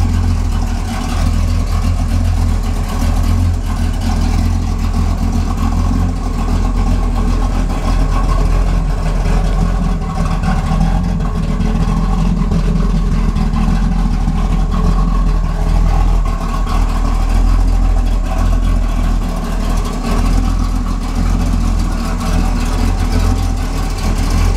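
A 1969 Pontiac Firebird with a 400 engine and a five-speed gearbox idles steadily for the whole stretch, a loud, deep, even rumble with no voices over it.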